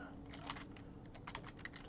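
Someone types on a computer keyboard into a chat app: irregular runs of soft, close keystroke clicks with small pauses, over a low steady background hum and no speech.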